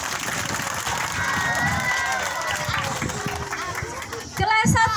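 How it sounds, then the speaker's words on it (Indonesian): Classroom of children clapping for class 6, a steady wash of applause and cheering with chatter mixed in, swelling louder near the end. "Ya, beri tepuk tangan untuk kelas 6"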